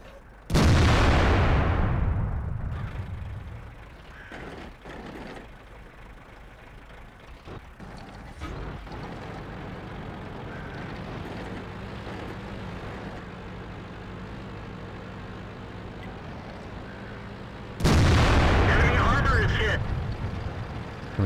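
Tank cannon shots in World of Tanks from an AMX Foch tank destroyer, a loud booming blast at the start and another near the end, with lower engine and mechanical rumble between them.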